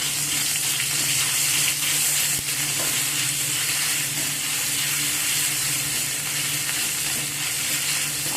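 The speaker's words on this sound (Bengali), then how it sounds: "আদা আর কাঁচা লঙ্কাটাকে এখানে ভালো করে ভেজে নিতে হবে একটু, যাতে আদার কাঁচা গন্ধটা চলে যায়" Ginger and green chili paste frying in hot oil, a loud steady sizzle with scraping and stirring throughout, close and continuous with no talking.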